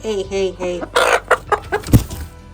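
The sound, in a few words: broody hen clucking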